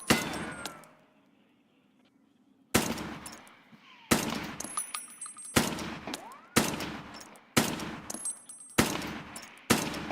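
Automatic gunfire in a video game comes in long sustained bursts, loud and close, each starting sharply and trailing off, with short gaps between volleys and no talking.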